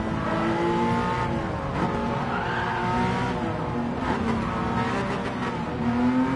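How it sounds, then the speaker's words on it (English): Porsche Cup race car engine in Gran Turismo 7, revving hard flat out up a straight and hill, a rising and falling engine tone with gear changes and faint tire squeal, steady and close with no talk. "Here we are then, flying around this Porsche Cup. On to this straight then, up, flat out, up the hill we will go."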